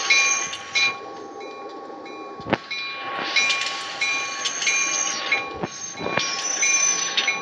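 A local train pulling into Pegangsaan station, with a steady rolling rumble, bright metallic wheel squeal rising and falling, and a few sharp clanks over the rails, heard close up without talk.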